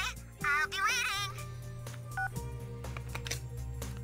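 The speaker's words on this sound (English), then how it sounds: "You ended the phone call." A short electronic chime marks the end of a phone call in the Persona 4 video game, with a rising warbling jingle near the start, then a lower tone, heard over steady game background music.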